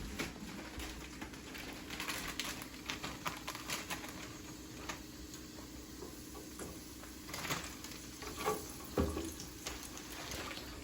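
Quiet, continuous crackling and spattering of pork chops frying in oil heated to 350 degrees, with occasional louder pops and no voices.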